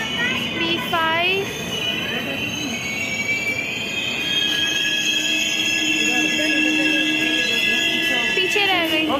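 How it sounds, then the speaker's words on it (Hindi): The Purushottam Express at Bokaro railway station squeals on its wheels with sustained high metallic screeching, over a continuous rumbling of railcars, and people talk nearby. "बोकारो रेलवे स्टेशन पे हमारी पुरुषोत्तम एक्सप्रेस लग चुकी है"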